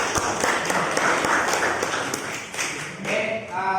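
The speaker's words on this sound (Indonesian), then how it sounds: "Kita beri tepuk tangan untuk kita semua." Students in a vocational school classroom during a motorcycle engine maintenance lesson clap together in steady applause that fades, and a voice comes in briefly at the end.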